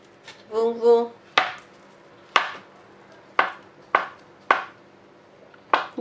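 A knife chops potatoes into cubes on a cutting board, six sharp, evenly spaced thuds ringing out close and clear after a brief spoken word.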